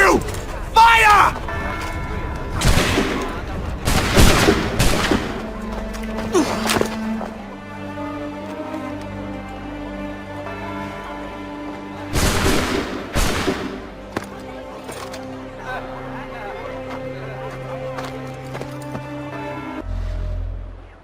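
Soldiers fire a musket volley in an Assassin's Creed III cutscene: several loud, sharp gunshot bursts ring out in quick clusters, mixed with shouted voices and followed by quieter music and speech.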